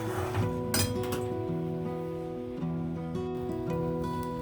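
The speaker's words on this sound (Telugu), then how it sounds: "ఇది దగ్గరికి అయ్యే వరకు ఇలా తిప్పుతూ కలపెడుతూ ఉండాలండి" A spoon stirring jaggery and lentil filling for burelu in a metal pan, making ringing clinks and scrapes against the pan, close and fairly loud, no talk over it.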